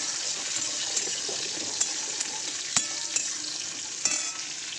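Aubergine pieces frying in a pan, a steady close sizzle with faint bubbling, broken by a few sharp clicks and brief stirring knocks.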